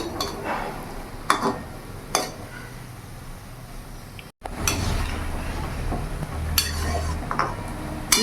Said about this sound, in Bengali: ভালো করে নাড়িয়ে নিলাম, ওপর নিচ করে নিলাম।